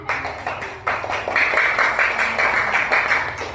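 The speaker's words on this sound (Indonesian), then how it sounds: "tepuk tangan untuk kelompok 4" A classroom of elementary school children claps for group 4, a dense patter of many hands that builds after a brief start and keeps going throughout, close and fairly loud.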